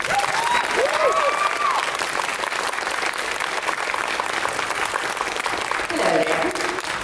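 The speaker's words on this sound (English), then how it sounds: "Ladies and gentlemen, a big round of applause for Tricia Helfer." Comic convention crowd applauds and cheers as a guest walks on stage, loud continuous clapping with scattered whoops and voices mixed in throughout.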